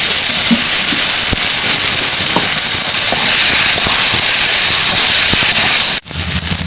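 Potatoes frying in spiced oil in a pan for a village-style egg and potato curry, a loud, steady, close sizzling hiss that cuts off abruptly near the end.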